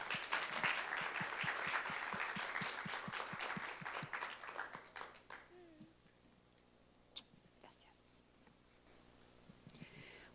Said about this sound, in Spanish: Recibamos por favor con un fuerte aplauso a Teresa